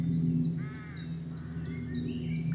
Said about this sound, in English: Crows in the distance.